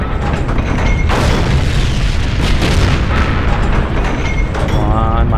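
Heavy booming tank cannon fire and loud combat noise in the Heroes & Generals game, with a Panzer III facing T-34s; dense, loud blasts fill the whole moment while someone talks over them.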